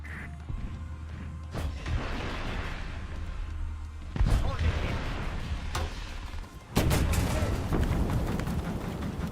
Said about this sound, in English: Request target for airstrike.